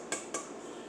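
A metal 9-inch pie pan is handled, giving two quick, faint clinks about a fifth of a second apart against a quiet room background.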